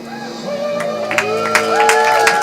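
A comedy club audience at The Pickle cheers, whoops and applauds to welcome the host onto the stage, a dense continuous crowd roar with shouts popping out, steady and fairly loud throughout.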